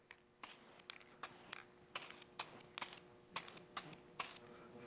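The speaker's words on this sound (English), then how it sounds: "A little test spray." Flat black spray paint sprayed from an aerosol can onto a plexiglass car audio part in a short test, heard as about eight brief hissing bursts at close range with quiet gaps between them.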